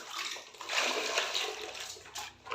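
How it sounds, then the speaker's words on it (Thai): Water is poured into a pot while apple snails cook, making a steady close splashing gush that rises and falls briefly. "ใส่น้ำครับ น้ำเลย"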